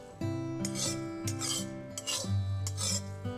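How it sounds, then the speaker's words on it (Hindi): Broken wheat being stirred in ghee with a ladle in a pot, a series of rough scraping rubs in a steady rhythm, close and moderately loud over a sustained tonal background. "अब इसमें हम दलिया डालेंगे। हमें अच्छे से घी में इसे मिक्स करना है"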